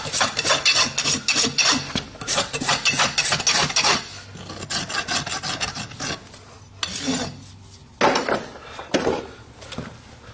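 A hoof rasp strokes lightly over a horse's front foot, rapid rhythmic rasping close up that slows and thins out toward the end with a few scattered scrapes.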